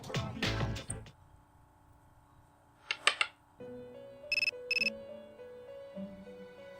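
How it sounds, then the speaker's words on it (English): A short electronic ringtone in the Persona 3 Portable video game: a few bright synthetic beeping tones and a brief two-pulse chirp, heard alone and fairly quiet after a moment of low sound. "Your cell phone is ringing."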